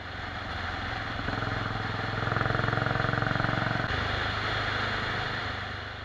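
Norton International Special motorcycle engine running steadily on an open road, a loud, continuous mid-pitched drone that swells slightly as it revs, with no talking.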